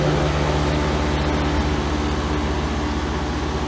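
A brand-new 2022 Heil package heat pump unit runs with its Gentech fan motor turning at 1100 RPM, giving a steady, close mechanical hum with a low pulsing drone and airy whoosh throughout.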